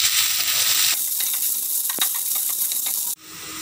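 Onions and aromatics being sautéed for a prawn dish sizzle loudly in a pan, a dense close hiss broken by a few scraping stirs and a sharp clink, dropping briefly quieter near the end.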